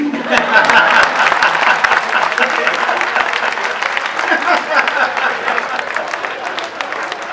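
Loud, sustained applause from a large audience at a Hindi comedy and mimicry poetry event, a thick continuous wash of clapping throughout, with some crowd voices mixed in.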